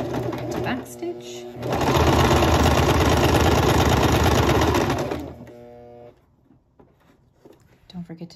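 Domestic sewing machine backstitching a dress seam, a loud steady close whir for about three seconds between shorter bursts and pauses, then quiet handling noises.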